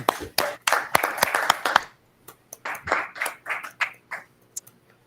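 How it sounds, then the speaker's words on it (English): A small group claps at a school district board meeting, sharp irregular hand claps in two bursts with a short quiet gap between, fading out toward the end. "oh yes, please clap"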